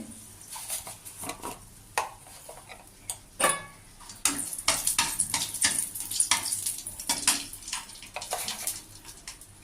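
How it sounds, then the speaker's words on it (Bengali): Two dried red chillies go into hot oil as tempering in the pan just used for frying fish. Irregular crackling pops and ticks sit over a faint sizzle, growing busier in the second half. "এবার আমি দুটো শুকনো লঙ্কা দিয়ে দিলাম ফোড়নে"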